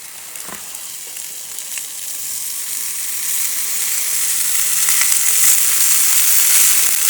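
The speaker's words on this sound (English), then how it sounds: "Sausages sizzling." Sausages frying on a camp stove at a campsite, a continuous hissing sizzle that grows gradually louder, with faint pops and no voices.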